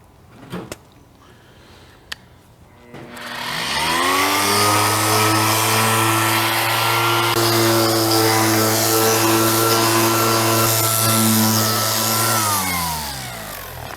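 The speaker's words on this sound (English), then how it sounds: "I'm going to sand it. Sand it and try to get all these rough spots off of it." An electric power sander works over the rough rock-faced edge of a handmade sink, its motor spinning up to a loud, steady whine that holds for about ten seconds before winding down, with no talking.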